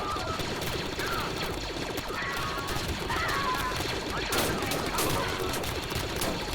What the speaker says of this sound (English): Turn into two lines, just exchanging fire right now.